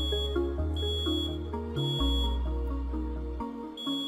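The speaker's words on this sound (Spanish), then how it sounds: "Incluso aquí la alarma de fuego suena similar alrededor de aquí." A fire alarm in the video game Remember The Flowers goes off during cooking, a loud, steady electronic tone with shifting pitched layers that holds throughout, with no voices over it.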